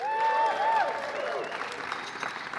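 Applause from a conference audience at a Las Vegas DevOps lightning-talk session: a loud burst of clapping with a high whooping cheer near the start, thinning out over a couple of seconds.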